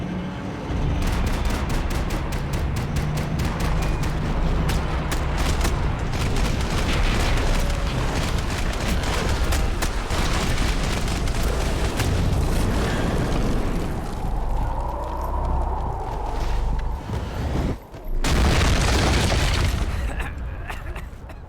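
Gunfire rattles through a shootout in the video game Max Payne 3, with dense rapid shots and booming blasts filling the whole stretch, and character voices breaking through at moments.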